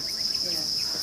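Crickets chirp en masse in tanks on a Thai cricket farm, a dense continuous high-pitched trill, close and steady, with a faint voice in the background.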